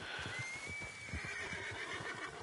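A horse in the video game Red Dead Redemption 2 gives a long, fairly faint whinny over a bed of steady ambient game sound, with no talking.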